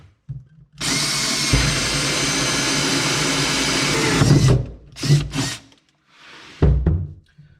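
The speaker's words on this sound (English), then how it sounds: "it's time to drill the holes through the firewall" A power drill drives a 1 1/2-inch hole saw through the firewall of a 2018 Polaris Ranger 900 XP, a loud sustained whine of cutting metal for about three seconds, then several short bursts of drilling with pauses between.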